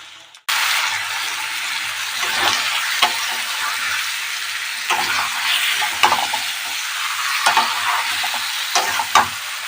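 Chicken meat tipped into hot oil with golden fried onions sets off a loud, steady sizzle that runs throughout, broken by scraping stirs of a spatula in the pan; no one speaks.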